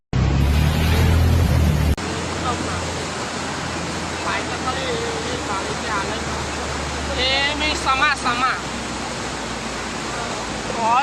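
Rushing floodwater of the swollen Vishwamitri river near a bridge during heavy rain flooding in Vadodara, a loud steady roar of water throughout, with people talking over it.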